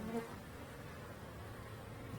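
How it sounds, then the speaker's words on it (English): Steady, faint buzzing of bees near a beehive, a continuous low drone with no pauses or voices. "Yeah, we got bees."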